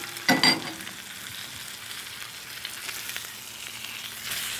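Sous vide pork chops searing and being basted in a hot pan, a loud burst of spattering at the start settling into a steady sizzle, close by with no talking.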